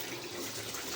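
Tap water runs steadily while clothes are washed, a faint, continuous hiss and splash close by with no voices.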